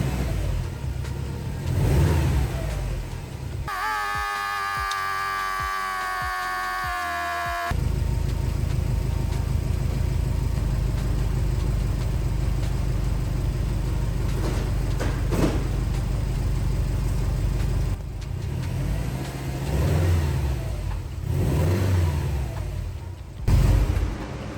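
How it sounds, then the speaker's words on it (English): A rebuilt Subaru STI engine idles steadily and close by, with a brief burst of higher revving near the start and low rumbling throughout. "The engine sounds good. So we're just gonna let it run for a second,"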